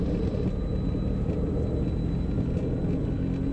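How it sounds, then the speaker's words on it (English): Twin jet engines of a Phenom 300 at takeoff power during the takeoff roll make a steady, loud, dense roar and rumble heard from inside the aircraft, continuous and unbroken throughout. "Check takeoff thrust. Takeoff power is set, ATR is green."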